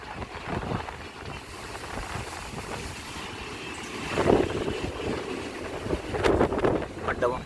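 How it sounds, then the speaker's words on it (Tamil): Strong wind gusts buffet the microphone at Mandapam railway station as a train passes on the way to the Pamban bridge, a loud steady roar with rumbling surges, and a voice talks over it. "மண்டபம் காற்று சும்மா பிச்சு வதருது, சில்லுன்னு அடிக்குது."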